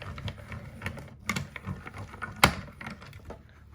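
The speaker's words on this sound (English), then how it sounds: "Use my little mini Stampin' Cut and Emboss machine here." Small Stampin' Cut and Emboss machine die cutting, a series of irregular clicks, creaks and rolling mechanical noises with one sharp crack midway, close and fairly quiet.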